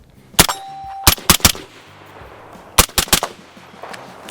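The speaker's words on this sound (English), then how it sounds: "So let's shoot just a few rounds here." Piston-driven AR rifle fired with a suppressor outdoors: two quick bursts of sharp, loud shots, three then three, with metallic ringing and a brief pause between groups.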